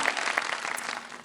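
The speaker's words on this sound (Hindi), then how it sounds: "एक दफा तालियां बजा दें ताकि हम मुकाबले का करें बाकायदा आगाज" A studio audience on a TV quiz show breaks into a short burst of dense clapping that fades slightly within a second.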